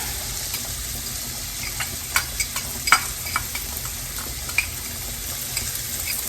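Onions frying in butter in a pan for beef stroganoff, a loud continuous close sizzle and hiss with scattered small pops and stirring clicks, no talk.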